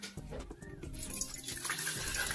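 Water pours steadily into a cup or pot while tea is being brewed with a tea bag, a close continuous splashing stream with no talking.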